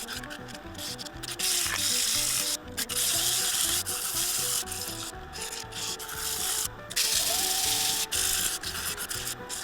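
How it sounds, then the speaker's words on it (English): Continuous abrasive rubbing of sandpaper against a wooden bowl spinning on a lathe, a steady harsh hiss with rhythmic pulsing, close and fairly loud, no talking. "I sanded it back off."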